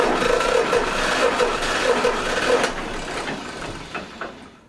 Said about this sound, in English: to spin the starter over, maybe let it draw some fuel down in the cylinders